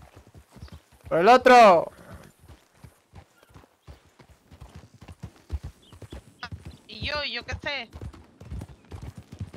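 Horse hooves clip-clop steadily through a Red Dead RP video game ride, near and rhythmic under the whole stretch, with two bursts of a neigh or whinny and people chatting in Spanish over the top.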